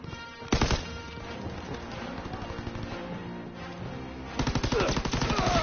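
PPSh submachine gun firing in Call of Duty WW2, rapid automatic bursts with a fast rattling cadence at the start and again at the end, sustained game noise between them.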